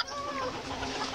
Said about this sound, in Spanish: Mira esos pollos.